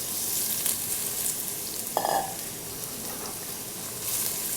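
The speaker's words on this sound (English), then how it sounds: "You want that nice sizzle sound. We're going to do our onions first." Onions sizzling in a pan, a soft, even frying hiss throughout with one brief clank near the middle and no voices.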